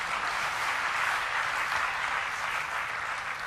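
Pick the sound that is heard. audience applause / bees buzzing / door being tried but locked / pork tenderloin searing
audience applause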